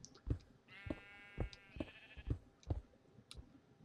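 A sheep bleats in a Minecraft-style block-building game, one drawn-out quavering bleat amid a steady pattern of sharp clicking thuds from in-game actions, with no talk.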